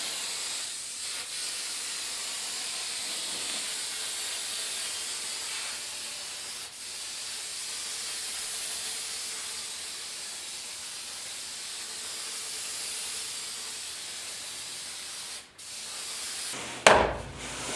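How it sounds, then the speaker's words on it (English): A spray paint can hisses steadily while coating a rustic wooden picture frame, a close, continuous spray with one or two brief breaks, ending in a short clatter. "you just have to use a spray bomb and away you go"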